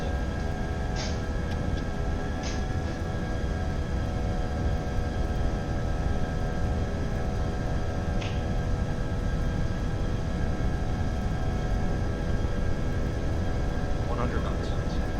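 Airbus A320 engines spool up to takeoff thrust during the runway roll at Phoenix in a flight simulator, a loud continuous roar with droning tones and a few faint clicks, steady throughout.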